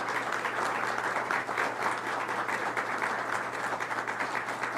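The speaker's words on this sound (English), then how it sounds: "Give our priests a round of applause." Sustained audience applause for priests at a Philadelphia church gathering, a steady wash of many hands clapping throughout at a moderate, even level.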